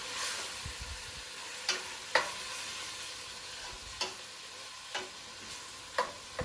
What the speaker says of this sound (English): I'm going to stir that really well.